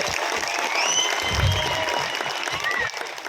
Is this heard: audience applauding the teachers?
yes